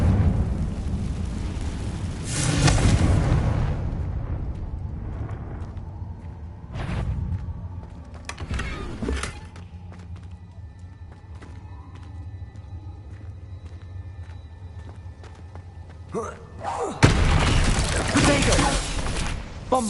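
Fiery spell blasts from the Confringo curse in Hogwarts Legacy erupt in several loud bursts, with crackling impacts near the start and end and quieter rumbling between them.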